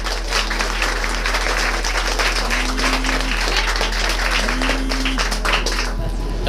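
Applause from a crowd welcoming guests at a school book and T-shirt distribution event, steady dense clapping that holds a constant level across the whole stretch, with a faint tonal hum underneath.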